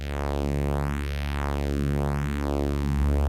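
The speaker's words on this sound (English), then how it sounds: "We can create some very interesting phasing effects." A Frap Tools CUNSA quadruple multimode analog Eurorack filter sweeps a sustained tone, producing slow, repeating phasing swoops that rise and fall over a steady drone, continuous and alone.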